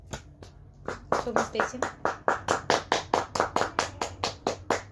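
An audience claps after a poem recital. A few scattered claps quickly settle into a loud, even, rhythmic beat of hand claps close by, with a faint voice underneath.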